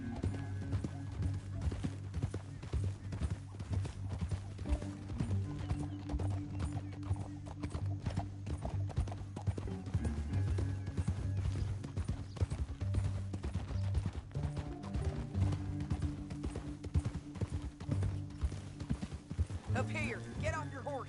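Horse hooves clip-clop steadily in the Red Dead Redemption 2 video game, a continuous rhythmic trot under a droning musical score, with an occasional whinny and characters talking over it.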